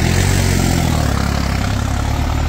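A John Deere 5210 tractor in D2 gear drags an 18-disc harrow, its engine a loud, steady, deep diesel drone that holds close and constant throughout without a break.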